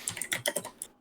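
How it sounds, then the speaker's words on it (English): Computer keyboard typing caught by a microphone, a quick run of about eight crisp close key clicks in an uneven rhythm, then silence. "Is your keyboard attached to your microphone?"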